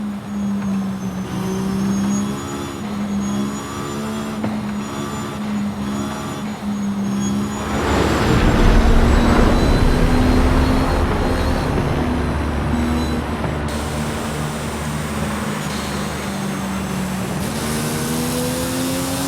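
Engine drone of a cargo plane racing an AMG car in Forza Horizon 5, a steady loud roar with a sustained tonal hum that swells into a broader rushing surge midway, then settles back to a constant drone.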